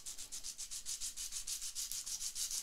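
Sanding on coarse sandpaper, around 80 or 100 grit, during guitar work, a brisk rhythmic back-and-forth rasp of about six strokes per second, close and steady, with no talk.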